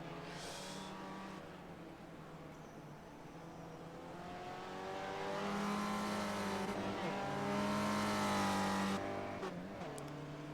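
SCCA Spec Ford race cars at Okayama pass one after another, engines revving and shifting through the gears as they swell from moderate distance to close and loud, then fade away, with no talking.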